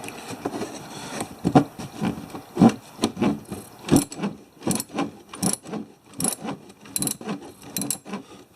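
A fitting on the fuel canister of a Honda Rancher 420 ATV being tightened by hand tool, giving a steady rhythm of close ratcheting clicks and metallic scrapes roughly every half second, with no talk.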